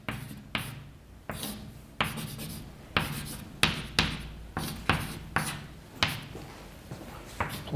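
Chalk tapping and scratching across a board during a mathematics lecture, a steady series of sharp close knocks, each followed by a short scrape, with no talking.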